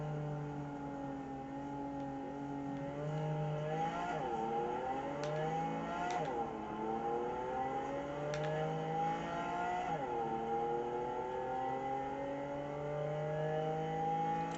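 A car in the Cyberpunk video game drives and revs steadily for the whole stretch, its engine tone climbing and dropping through repeated gear sweeps, loud and continuous with no talking.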